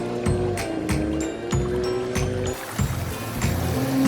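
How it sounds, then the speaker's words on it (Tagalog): A clear stream babbles and splashes steadily alongside a melodic tune with rhythmic beats. "Ang linaw ng tubig at ang sarap pakinggan ng lagaslas."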